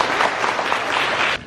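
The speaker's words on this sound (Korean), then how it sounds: "박수 부탁드립니다" An indoor audience at a money-management talk applauds a speaker being introduced, a dense, loud wash of many hands clapping at once that holds steady, then stops abruptly near the end.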